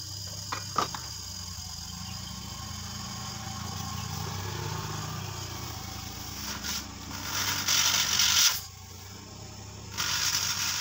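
A compressor runs during a compression check before welding, giving a fairly quiet, steady mechanical hum with a brief burst of hiss partway through.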